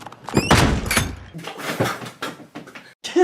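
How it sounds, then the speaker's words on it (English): A door slams shut with a heavy thunk in a My Little Pony: Friendship Is Magic cartoon scene, loud and close, followed by further cartoon sound effects and clatter. "Slamming the door in the main six's face."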